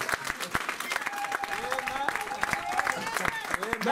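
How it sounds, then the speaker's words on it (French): A church congregation claps and acclaims the Lord in a dense, rhythmic burst of applause, with voices calling out over the clapping throughout. "Maintenant, il y a acclamation au Seigneur."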